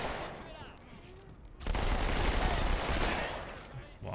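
Gunfire in the Halo 2 Anniversary video game: a quieter stretch followed by a dense, loud burst of rapid automatic shots lasting a couple of seconds, close and continuous.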